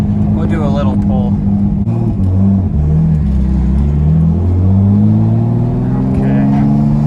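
A 1957 Ford Thunderbird fitted with lowering springs accelerates hard, its engine close and loud, the tone climbing steadily in a sustained rev as the car pulls away.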